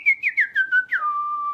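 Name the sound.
person whistling an imitation of a bird call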